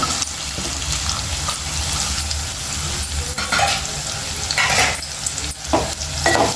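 Ridge gourd pieces fry and get stirred in a hot pan for a chutney, a steady close sizzle running throughout with stirring scrapes and a few louder bumps.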